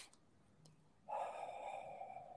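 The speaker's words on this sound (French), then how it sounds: "quelques respirations en conscience" A few slow, mindful breaths during a guided meditation, heard as a soft airy exhale that swells and holds for over a second after a brief quiet intake, close and faint with no talking.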